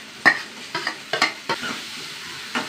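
Sliced onion and a green chili frying in coconut oil, stirred with a spoon: a faint sizzle beneath about six distinct scraping strokes spaced irregularly, close and clear, with no speech.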